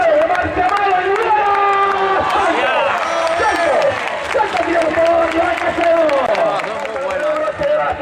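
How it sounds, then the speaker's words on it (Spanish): Crowd at a bull-leaping recortes contest in Cifuentes clapping together, a dense and steady wash of applause and cheering mixed with voices, loud and sustained throughout. "¡Palmas! ¡Palmas! ¡Palmas!"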